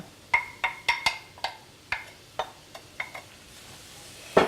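Vegetables are sautéed in a pan as the base for sauerkraut soup, with a utensil knocking and scraping in sharp, irregular clicks about a dozen times over a faint background sizzle.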